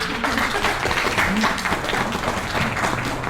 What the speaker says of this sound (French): Vous pouvez applaudir Muriel, je pense.